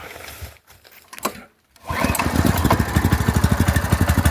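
A small gas motor, choked and fueled, starts on a single pull cord yank after a couple of brief rattles and a pause, then settles into a loud, rapid, steady putter with some throttle applied.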